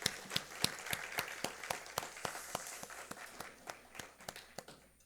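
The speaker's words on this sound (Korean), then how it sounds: "감사와 영광의 박수 올려드리겠습니다" Light clapping from a church congregation during a Sunday service, a sparse run of distinct, fairly quiet claps that thins out toward the end.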